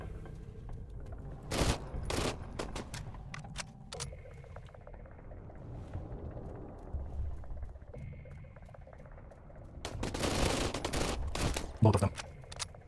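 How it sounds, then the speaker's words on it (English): A pistol set to full auto in the video game Sunkenland fires in several sharp bursts, loud and clustered, separated by quieter gameplay ambience with a voice talking. "Gonna put our pistol on auto."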